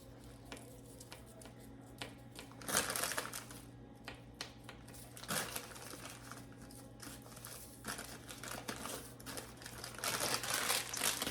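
Foil wrappers being peeled off Hershey Kisses chocolates while baking cookie butter blossom cookies, giving soft intermittent crinkling and rustling close by, with light handling clicks and a steady low background hum.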